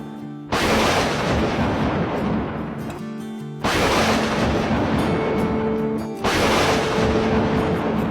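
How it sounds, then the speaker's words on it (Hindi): Loud thunder cracks break out over heavy storm noise outside a mansion. Three abrupt, booming bursts arrive a few seconds apart, each rolling on densely before the next. "और हवेली के बाहर भी जोर की बिजली कड़की"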